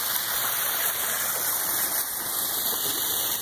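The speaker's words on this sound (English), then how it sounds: "We just turned it on, got it going, complete different yard. There's the waterfall, not finished." Backyard pond waterfall just switched on, water trickling and splashing in a steady, moderately quiet hiss with bright spattering texture throughout.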